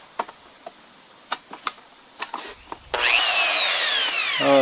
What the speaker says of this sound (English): I have a power tool.